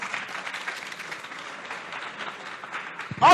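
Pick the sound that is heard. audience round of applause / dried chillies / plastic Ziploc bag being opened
audience round of applause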